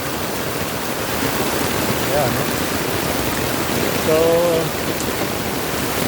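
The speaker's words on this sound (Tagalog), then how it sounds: "Lakas ng ulan, oh." Heavy rain pours steadily in a dense, loud hiss, with a person speaking briefly over the downpour.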